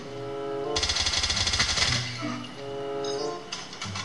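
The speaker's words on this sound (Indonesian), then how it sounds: "Eh, ada suara tembakan." Rapid bursts of automatic gunfire in Call of Duty Mobile, a sustained rattling volley followed by shorter scattered shots over game background sounds.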